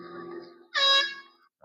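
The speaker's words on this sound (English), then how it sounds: "Just honk the horn." An air horn on a passing vehicle in a Doppler effect demonstration gives one loud sustained blast lasting about half a second, preceded by a lower steady tone and followed by a brief faint blip.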